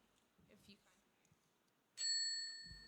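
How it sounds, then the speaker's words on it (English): A single bright bell ding rings out clearly after soft background murmurs, its metallic tone lingering and slowly fading. "Yeah, the bell is audible."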